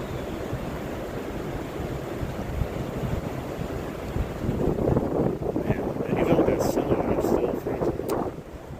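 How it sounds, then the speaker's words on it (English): Strong, constant wind buffets the microphone beside a Wisconsin creek on a cold fishing outing, a dense roar that swells louder in the second half with gusty rushes and no voices. "Wind just never lets up ever."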